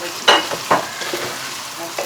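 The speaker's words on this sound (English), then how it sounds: "So we have cut 2 onions, finely sliced, and now we are going to put this in." Finely sliced onions, two of them, going into a karahi for Peshawari salted lamb, giving a few soft sizzling bursts with stirring scrapes in between, close and moderately loud with no talking.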